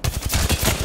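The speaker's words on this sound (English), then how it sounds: "I shot at an enemy shield." Rapid automatic gunfire hits an enemy shield in Apex Legends: a quick, loud rattle of about eight evenly spaced shots packed into under a second, close and alone.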